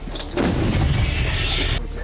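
An American M777 howitzer fires once near Kurakhove, a heavy, loud boom rolling out and sustained for over a second before cutting off, with no talk over it.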